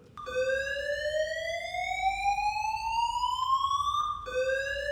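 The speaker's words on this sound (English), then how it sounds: "That's the sound that tells us that we need to leave the building immediately." A church fire evacuation alarm sounds loud and alone as a long electronic tone that keeps sliding upward, then drops back and starts climbing again near the end.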